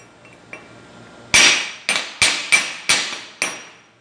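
Sharp hammer strikes chip slag off a still-hot stick electrode (coated electrode) weld bead, one light tap followed by five loud, evenly spaced metallic blows, each ringing briefly, with no talking.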